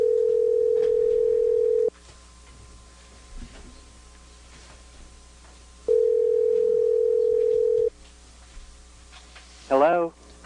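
A telephone rings while a guest is called for a podcast: two long steady ring tones separated by a quiet pause, clear and close, with a brief voice right at the end.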